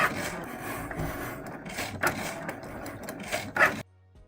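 A Cricut cutting machine slices an Infusible Ink sheet loaded on its mat, giving a soft, busy mechanical whir with small clicks and swells that stops abruptly near the end.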